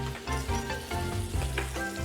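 Sliced onions sizzle loudly in hot oil in a pan, a close, steady crackle with occasional stirring scrapes and no talking.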